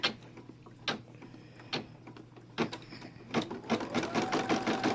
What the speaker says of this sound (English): The first step is going to be a placement stitch.